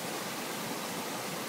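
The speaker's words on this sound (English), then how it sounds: "That side, it's got a lot more water in it than it normally does." A creek swollen after rain rushes loudly and steadily in a dense, unbroken wash with no voices.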